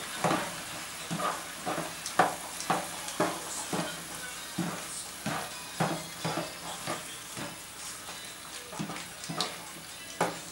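Drained pinto beans being stirred in a cooking pan, a steady rhythm of repeated scraping strokes over a soft sizzle, fairly close and with no voices.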